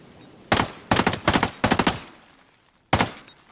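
Gunfire in a stealth video game shooting at mines: about five loud, sharp shots, the first at 0.5 s and the last alone near 2.9 s, each ringing briefly with a few quick echoing cracks.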